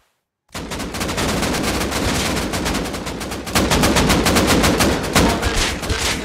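Sustained automatic AK rifle fire in the survival game Rust on console, a dense unbroken rattle of rapid shots lasting several seconds, loud and close, with a second burst picking up partway through.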